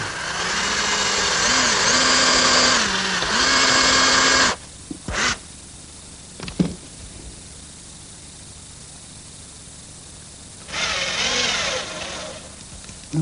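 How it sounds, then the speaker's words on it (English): A power drill drills a pilot hole for a screw, whining loudly for a few seconds with pitch wobbling under load, then stops; a few clicks follow before another brief burst of drilling. "Now I'm just going to drill a pilot hole for a screw."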